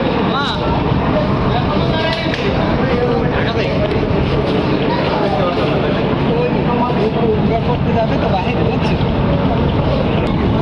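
A Surabhi 9 passenger launch engine reversing after leaving Barishal ghat, a constant loud rumbling drone with wind and water wash, steady throughout, with people talking over it.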